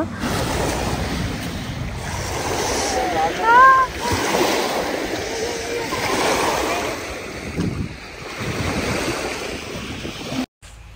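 Waves wash onto the beach at Point Pelee around sunset: a steady, broad roar of surf mixed with gusting wind noise, continuous throughout and fairly loud.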